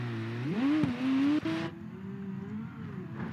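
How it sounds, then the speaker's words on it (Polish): A McLaren Senna drives in BeamNG.drive, its engine tone sweeping upward as it accelerates, then holding a steady, moderately loud drone with a brief thump partway through. "Jedziemy, jedziemy McLarenem."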